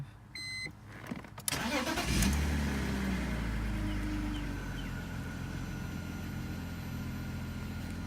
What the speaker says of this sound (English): It sounded like a much smoother start.